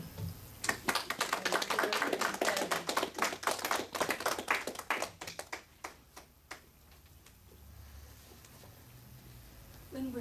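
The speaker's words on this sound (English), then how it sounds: "let's right now appreciate their presentation by giving them a big applause" A small audience at a spiritual teaching gathering gives scattered, thin clapping that thins out after several seconds, leaving quiet room tone with faint murmurs.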